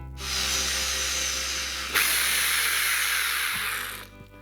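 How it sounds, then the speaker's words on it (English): A power drill boring holes through a piece of wood laid on a backing surface for a rope and wood shelf, a steady close whirring hiss that spins up, shifts pitch midway and winds down after about four seconds. "we're going to use this bad boy and drill our holes"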